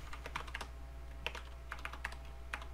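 Someone types on a new computer keyboard while coding, with quick, uneven clusters of key clicks over a steady low hum. No one speaks.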